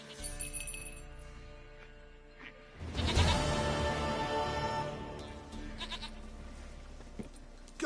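A goat bleats in The Witcher 3, a loud burst of game sound rising near the middle and holding over a steady background, with faint clinking bits around it.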